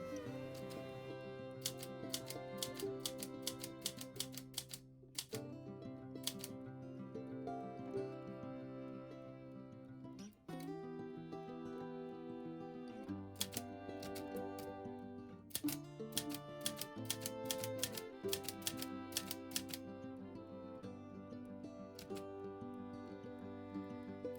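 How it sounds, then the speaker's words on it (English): A vintage typewriter types out a page in quick bursts of crisp, irregular keystroke clicks, with short pauses between runs, quiet and close over soft background music. "Here I am, I'm just typing a page out."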